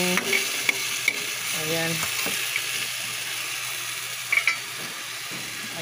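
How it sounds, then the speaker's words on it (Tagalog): Meat browning for adobo, a loud close sizzle and fry in a pan with scraping stir strokes and a few clinks, while a voice speaks a brief word over it. "pa-brownin natin yung karne"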